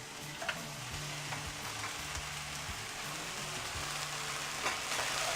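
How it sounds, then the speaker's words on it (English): Shrimp sizzles and crackles steadily in a hot pan while cooking for Malaysian nasi goreng fried rice, a dense even frying hiss with occasional stirring scrapes and no talk. "As you can see, the shrimp cooks quite quickly."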